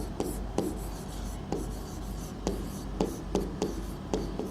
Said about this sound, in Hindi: एक मिनट फिर से लिखते हैं।